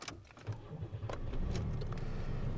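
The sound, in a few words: GM car engine starting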